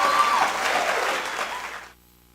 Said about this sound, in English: Let's give a round of applause for Carl